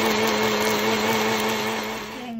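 An electric blender grinding toasted rice whirs steadily at a high, even pitch, loud and close, winding down slightly at the very end.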